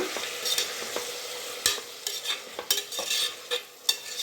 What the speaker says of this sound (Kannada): ಈಗ ಚೆನ್ನಾಗೆ ಮಿಕ್ಸ್ ಮಾಡ್ಕೊತಿದ್ದಾರೆ ಶುಂಠಿ ಬೆಳ್ಳುಳ್ಳಿ ಪೇಸ್ಟ್ ಎಲ್ಲ